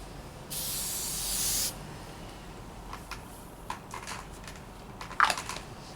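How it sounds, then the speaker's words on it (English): Short burst of aerosol spray applied to a foot before ankle taping hisses for about a second close up, followed by quiet rustling and a few soft crinkling handling sounds. "first you give just a gentle spray, thin layer of spray to the aspects of the foot that you want to"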